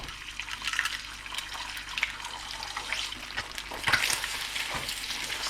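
Three cracked eggs sizzle in about a teaspoon of hot oil in a pan, a steady bright crackle and spatter with occasional stirring scrapes, close and continuous.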